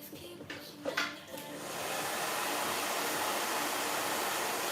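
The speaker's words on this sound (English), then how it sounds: "I kind of have the blow dryer on cool." A blow dryer on its cool setting, used while styling hair with gel for feed-in ponytail braids, starts after a few faint handling clicks and then holds a steady loud rushing whoosh.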